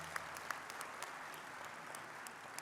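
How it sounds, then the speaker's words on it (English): Applause at the 2024 NAACP Freedom Fund Dinner honoring the Milwaukee branch, a faint, distant, even patter of many hands with a few sharper claps standing out. "can we give the Milwaukee branch of the NAACP a round of applause?"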